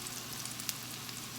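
Okra fries in oil in a pan with a steady close hiss and faint crackle, broken by small pops, running continuously without speech.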